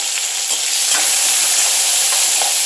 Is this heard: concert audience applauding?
no